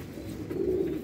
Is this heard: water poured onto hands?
no